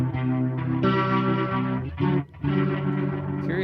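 A Boss RT-2 Rotary Ensemble pedal colors a sustained electric guitar chord with a swirling, distorted rotary-speaker effect, the tone ringing steadily with a short break near the end before it resumes.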